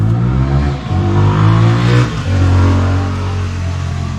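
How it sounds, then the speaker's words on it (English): A motorbike passes along a road outside during a Ford Ranger stereo installation, a loud engine drone that swells and fades as it goes by, heard alone without talk. "Wait for old mate need bike to go past."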